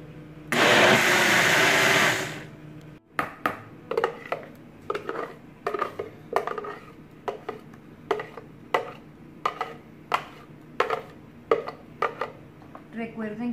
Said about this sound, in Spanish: La voy licuando con todos los ingredientes.